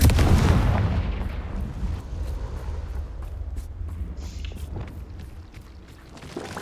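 A Confringo explosive spell in Hogwarts Legacy goes off as a loud, deep blast at the start, then a rumbling boom decays into low battle noise with scattered sharp impacts.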